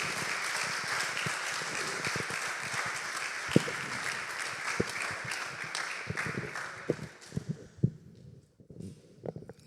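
A church congregation applauds, clapping that thins and fades toward the end and leaves scattered individual claps.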